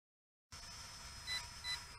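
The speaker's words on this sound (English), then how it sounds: "Oh, low voltage alarm." A low-voltage alarm on a JJRC or JXD Tracker GPS drone, two short high beeps sounding over a steady whine of motors after the sound cuts in.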